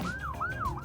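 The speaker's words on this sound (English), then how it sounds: "Oh, that's the ambulance." An ambulance siren wails in rising and falling sweeps, a couple of cycles heard at moderate distance over faint background rumble, with no talking.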